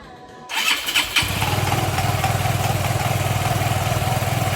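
A Yamaha Mio MXI 125 scooter, freshly overhauled with pulley, drive face, torque drive and belt refitted, cranks and fires, then settles into a steady, close, rhythmic idle with no talk.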